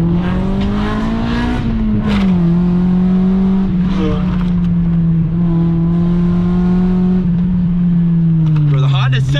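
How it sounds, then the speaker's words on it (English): A Honda car's engine revs hard in VTEC mode on a winding mountain road. The sustained high whine is loud and close, with pitch sweeping up and down as it accelerates and slows through turns. "the Honda's setting the pace lap. VTEC mode engaged"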